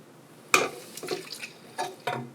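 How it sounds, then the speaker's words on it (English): Cold water poured into a Revo Bake Titan pizza dough mixer splashes in a few short, close bursts with soft sloshing between them. "And then our cold water."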